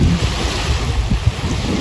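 Waves lapping along a wide lake shore on a windy day, a constant loud wash of surf noise with low gusty rumble throughout and no voices.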